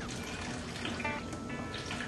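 Filtered water pours steadily into a Vitamix blender jar packed with greens, a continuous splashing rush that rises slightly in pitch as the container fills, close and alone.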